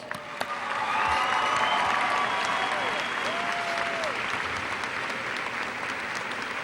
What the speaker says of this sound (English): Tiger teachers, let's give them a round of applause.